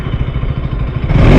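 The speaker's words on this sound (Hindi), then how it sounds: "रॉर सुनोगे बाइक का रॉर?" A KTM RC 200 GP Edition motorcycle engine idles with a rapid, throbbing pulse, then revs upward with a rising roar near the end, loud and close.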